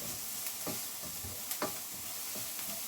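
Garlic, ginger and chili stir-fry in a pan for a mixed vegetable curry. The pan sizzles softly and constantly, with a few quick stirring scrapes over the short stretch.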